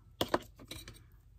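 Scissors cutting paper for a handmade scrapbooking envelope, giving two sharp close snips and then a few softer snips that fade out. No one speaks.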